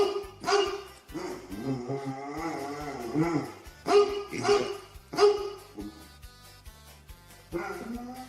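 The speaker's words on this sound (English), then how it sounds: "My dog is barking." A dog barks repeatedly in sharp bursts, mixed with yips and whimpers, fairly close and uneven in rhythm.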